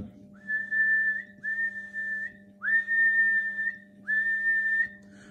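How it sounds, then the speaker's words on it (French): Four sustained steady whistle tones sound one after another into a President Washington CB radio transmitting around 20 watts, each about a second long, over a low constant hum. "Et à la sifflette."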